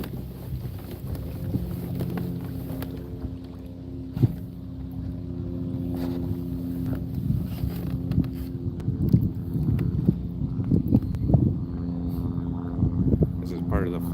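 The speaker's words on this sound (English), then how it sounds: "You guys hear the helicopter?" A low, droning helicopter hum carries steadily in the distance, mixed with wind buffeting the microphone and occasional bumps.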